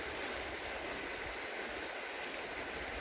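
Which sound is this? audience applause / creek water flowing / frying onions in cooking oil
creek water flowing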